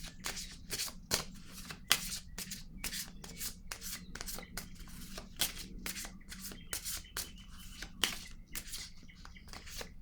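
A deck of cards being shuffled by hand, with steady riffling and rubbing bursts repeating close up at an even rhythm and no voices.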